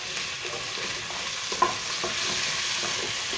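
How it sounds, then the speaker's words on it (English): Meat fries in a pot for a Kenyan stew, a continuous close sizzle with occasional soft stirring scrapes and one brief clink, no voices. "So you want to fry it for a little bit, just to let the flavor sink in."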